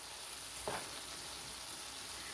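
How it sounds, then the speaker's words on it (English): Onions fry and brown in a pan, giving a steady, even sizzle throughout with one brief stir or scrape partway in. "these onions are starting to brown up, turn translucent"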